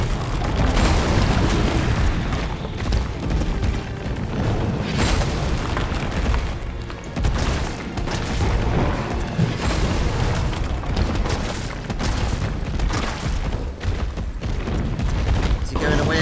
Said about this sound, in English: let's reload these grenades, Jill.